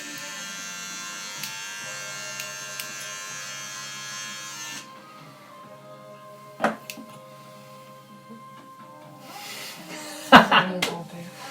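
An electric razor buzzes steadily while shaving hair, a close continuous drone that cuts out midway, followed by scattered clicks and handling noises with talking in the background.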